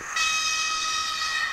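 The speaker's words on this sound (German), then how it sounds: "Wir können ja auch noch mal hupen." Electronic horn of a Viessmann model railway motor car pulling a low-sided wagon, a single sustained bright tone lasting over a second, loud and close with no talk.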